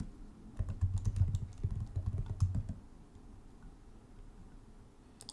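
Quick burst of keystrokes on a computer keyboard entering a Linux update command in an Ubuntu 20.04 virtual machine on an M1 Mac, soft and close, stopping after a few seconds into quiet.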